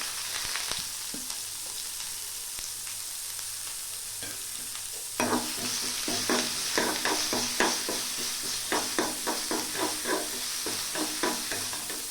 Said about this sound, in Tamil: சீரகம், கருவேப்பிலை, காரத்துக்கு 2 மிளகாய் போடுறேன். வெங்காயம் போட்டுக்கலாம்.